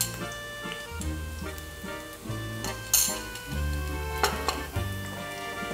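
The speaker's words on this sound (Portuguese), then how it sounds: "Vamos refogar isso aqui." Onion and spices sauté in a pan, a soft sizzle under repeated scraping and clinking as a utensil stirs against the pan, close by and fairly quiet, with no voices.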